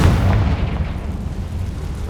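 A Confringo blasting spell explodes in the game Hogwarts Legacy, a loud, deep boom that rumbles at the start and fades away over a couple of seconds.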